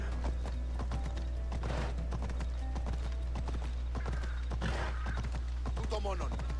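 Horse hooves clip-clop in a steady trotting rhythm through the Assassin's Creed Odyssey game world, with an occasional whinny over constant background hum and a voice speaking now and then.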